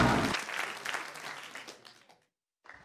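A studio audience on a Cuban comedy show breaks into brief applause, a burst of clapping that tapers off within about two seconds before a short silence.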